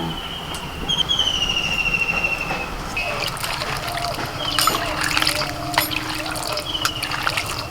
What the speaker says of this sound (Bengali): দেখো ডুমুরের জলটা কেমন কালো হয়ে গেছে এরকম দু চারবার জল পাল্টে ধুতে হবে